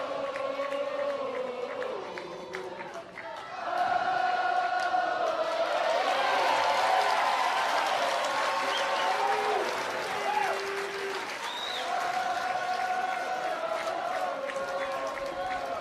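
Crowd at an NCAA college softball game between Florida State and Georgia swelling into sustained cheering and applause, loud and continuous over a roomy background murmur.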